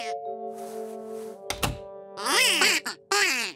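Cartoon ducks in a children's animated show let out a run of nasal quacks, loud and close, following a sharp thunk, with a sustained musical tone underneath.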